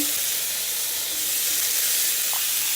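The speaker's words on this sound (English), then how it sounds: "I'm gonna put it in the pork chop gravy. I'm gonna let it cook some." Pork chops simmering in gravy in a pan, giving a steady, close, even sizzle and bubbling hiss that goes on without a break.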